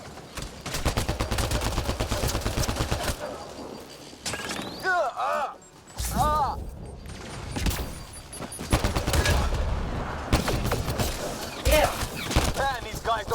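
Rapid continuous gunfire in the video game Mass Effect Andromeda rattles through a chaotic firefight, with bursts of automatic shots, whooshing effects and voices calling out over the shooting.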